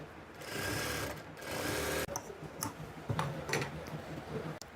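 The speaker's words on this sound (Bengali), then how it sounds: "তারপর দেখেন এখানে কিন্তু আমাদের ডবল সেলাই দিয়ে দিতে হবে।" A sewing machine runs a double stitch on a kameez, a steady loud whirring hum with ticking needle strokes, pausing briefly and then starting again in short runs.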